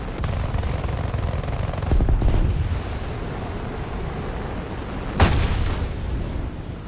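Vehicle guns firing in the combat game War Thunder, with a sustained rumbling barrage of shots and a sharp loud burst near the end, and no talk over it.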